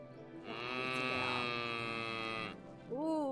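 A bull in Medieval Dynasty lets out a long, loud, droning moo lasting about two seconds, close by, followed by a short rising vocal sound at the end.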